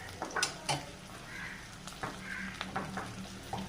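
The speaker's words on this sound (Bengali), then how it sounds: "ভেজে নেব।" Slit green chilies fry in a pan, giving a soft, steady sizzle with scattered crackles and occasional stirring clinks close by, fairly quiet throughout.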